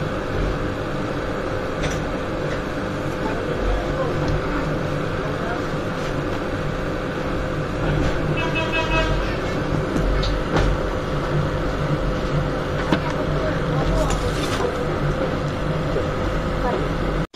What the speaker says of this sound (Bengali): গাইস অবশেষে ট্রেনটা ছেড়ে দিছে।